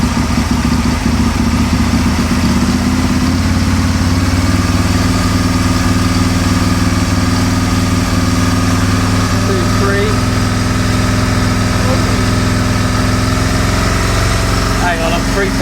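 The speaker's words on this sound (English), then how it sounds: "pull some revs up slowly." An Aprilia motorcycle engine is revved up slowly from idle during fuel tuning with an AFR gauge, a loud steady drone with gradually rising tone and faint clicks late on.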